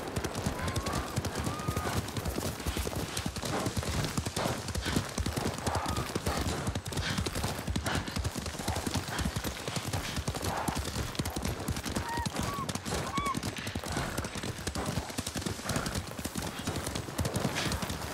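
Horses gallop in Ghost of Tsushima, their hooves clip-clopping in a dense, continuous rhythm at close range, with a steady ambient layer running underneath the whole stretch.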